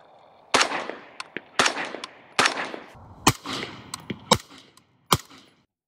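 Suppressed rifle shots through a Velos 556K low back pressure suppressor ring out about seven times, sharp close reports with short decaying tails and irregular spacing between them.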